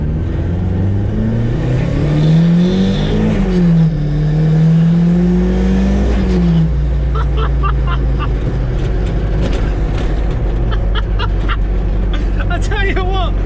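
Turbocharged Mazda MX-5 track car of roughly 260 bhp and about 910 kg accelerating hard under boost, engine note rising and falling through gear changes, loud and close from inside the car.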